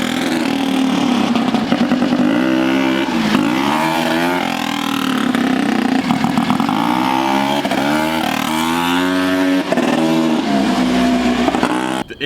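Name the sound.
turbocharged rotary-swapped ATV engine revving during wheelie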